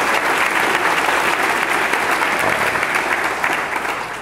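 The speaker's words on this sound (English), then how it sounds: "who we should give a round of applause to" An audience gives Professor Cornel West a round of applause at a talk on green jobs and the American economy, a loud, dense and sustained clapping that eases slightly near the end.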